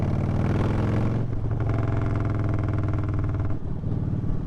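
Loud Harley-Davidson motorcycle ridden on roads after a storm, a deep steady engine rumble heard close from the rider's position, with a brief dip in throttle partway through before the drone continues.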